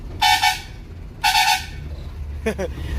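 A BharathBenz tipper truck horn honks twice in long loud blasts, then gives a quick burst of short toots, over a low engine rumble.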